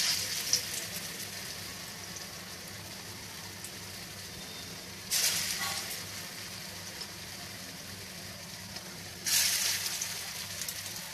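Masoor dal fritters (bora) fry in a wok over low gas, a steady soft sizzle running throughout with two brief louder crackling bursts.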